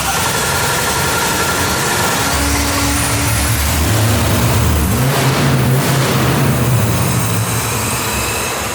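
Supercharged LS V8 swapped into an R34 Nissan Skyline, a homemade supercharger setup, runs at a steady loud drone throughout with low rumbling and a rising surge near the middle, a voice faintly audible underneath.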